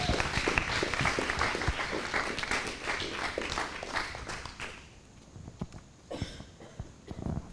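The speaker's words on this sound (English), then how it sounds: "A round of applause for Judy" Applause from an audience greeting a speaker named Judy, a dense burst of clapping that fills the room, then thins out and trails off into scattered claps.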